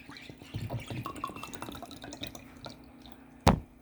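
Water is poured from a bottle into a glass, giving a soft trickling and bubbling that fades away and ends with a single sharp clink.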